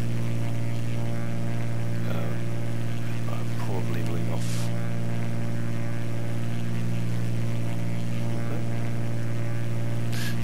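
Cessna 210 piston engine in the X-Plane 10 flight simulator drones as a steady, loud, tonal hum throughout, with faint brief voice sounds over it.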